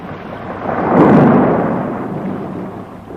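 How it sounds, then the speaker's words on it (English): Thunder from a passing storm rumbles in a deep, loud roll that swells to a peak after about a second and then slowly fades. "The storm. She is passing."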